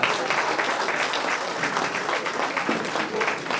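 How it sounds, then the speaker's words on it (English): A round of applause from the audience at an alumni association's annual general meeting, a close, steady patter of many hands clapping without pause. "Ladies and gentlemen, I think 1980 said deserve a big round of applause."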